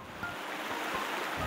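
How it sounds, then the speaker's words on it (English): Water pouring over the spillway of a hydroelectric dam on the Upper North Fork Feather River, a steady broadband rushing roar heard alone without talk, constant and moderately loud. "The water that you see going over the spillway right now is actually a bypass"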